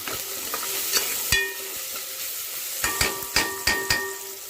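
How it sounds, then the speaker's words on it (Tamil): Salted onions sauté in hot oil in a pan, giving a continuous close sizzle broken by a few sharp clanks of a spoon stirring against the metal, with no talk. "உப்பு சேர்த்தா சீக்கிரமாக வெங்காயம் வதங்கிடும்."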